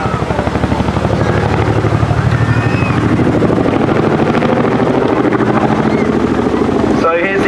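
A helicopter with contra-rotating rotor blades flies at the Torbay airshow, its loud, pulsing rotor chop and engine roar steady and close throughout, with a voice talking over it.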